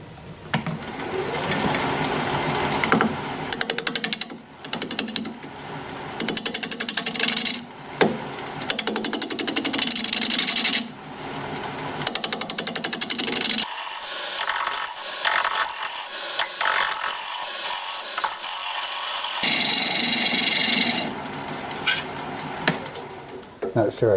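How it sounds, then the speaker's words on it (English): Olive wood dish beveled on a wood lathe: a loud, continuous scraping and rasping of the tool against spinning wood, in long passes broken by brief pauses. "But now I can start that beveling part."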